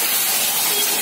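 Peeled, washed taro root pieces frying in hot oil, giving a steady, loud, dense sizzling hiss that fills the whole moment without a break.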